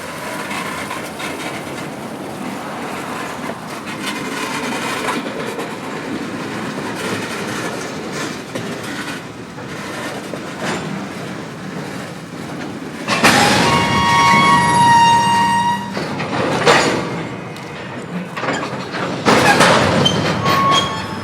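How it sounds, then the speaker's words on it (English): Georgia Northeastern Railroad freight train pulling north out of a siding onto the main line on a cool fall day, a steady rolling rumble of cars and wheels, then louder squealing wheels and a closer, brighter surge of noise near the end. "as the train pulls north out of the siding and back onto the main line"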